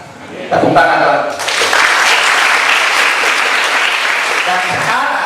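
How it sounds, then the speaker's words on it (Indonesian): A congregation at a church Bible holiday school session breaks into loud, sustained applause after a voice speaks briefly at the start, the clapping holding full and even to the end. "Tepuk tangan, Tuhan."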